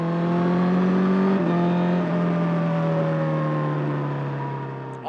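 A Honda CBR1000RR sport motorcycle ridden in cold weather drones loudly and steadily, close up, with a quick-shifter gear change causing a brief dip in tone before the engine pulls on.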